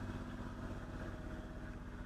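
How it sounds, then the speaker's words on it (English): A boat engine drones steadily with a low, even rumble, loud and constant, no voices. "Sorry for the loud engine."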